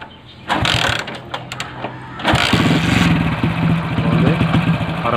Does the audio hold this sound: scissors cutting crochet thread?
no